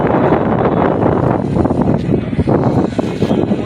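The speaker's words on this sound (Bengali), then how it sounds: "হাওয়া দারুণ চলছে।" Loud, steady roar of strong wind buffeting the microphone, a continuous rushing noise with gusty swells throughout.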